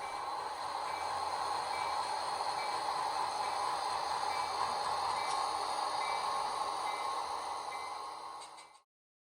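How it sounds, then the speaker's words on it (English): DCC-EX controlled model trains run on a layout with a steady, faint hiss and a constant motor hum that cuts off abruptly at the end. "Right now, let's go run some trains."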